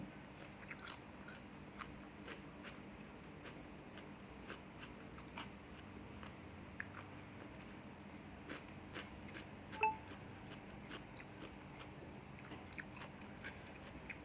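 Quiet, close-up chewing of tough, rubbery blanched squid tail, with soft crunchy bites repeating in a steady rhythm and no talking.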